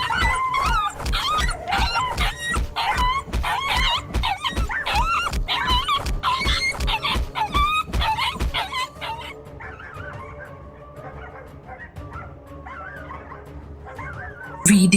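Street dogs in an animated folk story bark and yelp over and over in a fast, loud run, then fall to softer whimpers and whines over a low background drone.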